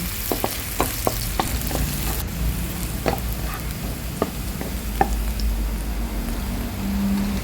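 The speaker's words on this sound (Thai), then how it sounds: "เราก็จะเอาเห็ดหอมลงไปผัดให้หอมก่อน" Shiitake mushrooms stir-frying in hot oil, with a steady sizzle and repeated sharp scrapes and clicks of a utensil against the pan, close and fairly loud with no talking.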